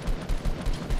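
Shotgun fire in a battle-royale video game, several quick muffled blasts in rapid succession, moderately loud over a low background rumble.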